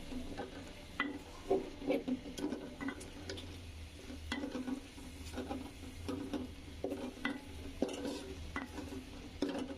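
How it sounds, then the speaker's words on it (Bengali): Spice paste for Bangladeshi beef curry is stirred and fried in a pot, with a spoon scraping and knocking against the metal in an irregular rhythm over a low sizzle, close up, with no talk. "এবার ভালোভাবে কষিয়ে নেব মশলাটা।"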